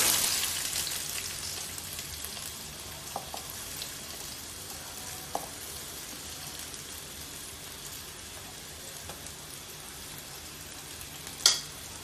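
Onions sizzling and frying steadily in hot oil with fenugreek, a dense continuous crackle with a few sharper pops, no voices.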